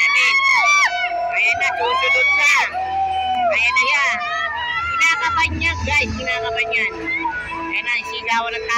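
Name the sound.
crowd shouting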